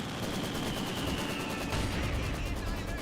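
Sustained M16 machine gun fire in the World War II strategy game Company of Heroes 2, a dense continuous rattle of shots with background battle noise, loud and steady throughout with no voices.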